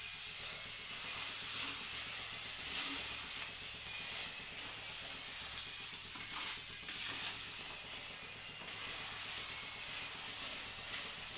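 Seeds roast in a hot pan with a steady dry sizzle and hiss, small crackles and pops scattered throughout, plus faint stirring scrapes, close and continuous without talk.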